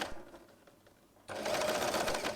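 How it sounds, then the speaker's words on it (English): A sewing machine stitches along scrunchie fabric, first with a few faint clicks, then running in a steady, fast, close whir. "Sew all along the fabric."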